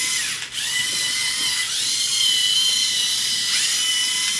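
Lego Mindstorms EV3 robot motors whirring as the robot moves around, a continuous high-pitched gearing drone with rising and falling pitch sweeps, close and steady with no voices.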